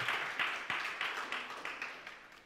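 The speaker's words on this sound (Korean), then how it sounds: "우리 박수로 축하할까요?" A church congregation claps together in a steady rhythmic beat to celebrate a member's birthday, with about eight evenly spaced claps in a roomy space that gradually fades.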